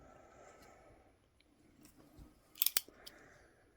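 Razor knife cutting the bark of a Korean hornbeam for an air layer, with quiet scraping followed by a short burst of sharp snipping clicks, close and faint, with no talk.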